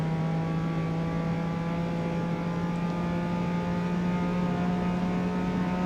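A race car in Forza Motorsport 8 accelerates out of a corner, its engine holding a steady, loud, droning tone throughout, with no talking.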